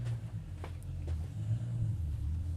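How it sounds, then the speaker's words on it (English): A noisy car passes outside a room, a low droning engine rumble that swells slightly and holds steady, heard from a distance through indoor background hum. "Someone with a noisy car."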